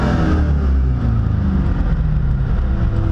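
A C5 Corvette with a failing clutch idles at Arizona Motorsports Park, a loud, steady low engine rumble with a slight droning whir throughout, close and without talk.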